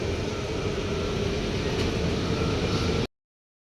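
Ambience in a large railway station in Stockholm, a steady broad rumble of trains and hall noise, loud and continuous without clear voices, cutting off abruptly near the end.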